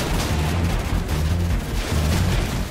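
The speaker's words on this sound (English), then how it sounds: "these guys are shooting at me" Gunfire in the Xbox 360 shooter Call of Duty 4: Modern Warfare, a loud dense barrage of rifle shots and deep booming thuds rolling in repeated bursts, no voices.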